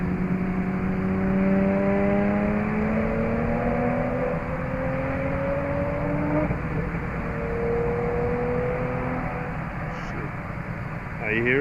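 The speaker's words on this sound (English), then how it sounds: "makes a lot of noise, this car." A loud car with a big muffler drones nearby, its engine note rising in pitch as it revs and pulls away, over a constant broad rumble.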